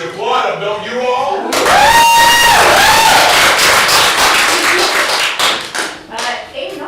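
An audience claps for the performers at a live show. After a short pause, a burst of dense clapping starts, with a high whooping cheer on top, then thins into scattered claps.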